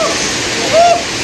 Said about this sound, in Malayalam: കൊടൈക്കനാൽ എൻട്രൻസിൽ തന്നെ ഒരു വെള്ളച്ചാട്ടം ഉണ്ട്